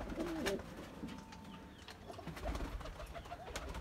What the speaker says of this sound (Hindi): फ्लायर कबूतरों का